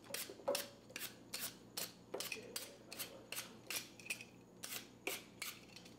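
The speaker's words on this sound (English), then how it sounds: "Get yourself a nice sharp peeler." A sharp peeler strips skin from apples for an apple pie: quiet, close scraping strokes repeat at a quick, regular rhythm, about two per second, with no voices over them.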